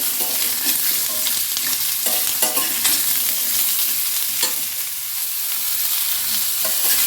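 Potato chunks are stirred in a hot pan of oil for a sweet-and-sour curry, a steady close sizzle broken by repeated scraping strokes of the spoon.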